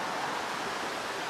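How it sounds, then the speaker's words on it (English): River flowing nearby beside a campsite with a fire pit, a steady broadband rush of water that stays even and fairly loud throughout, with no voices. "I get the river just behind me. Just over there. You can probably hear it."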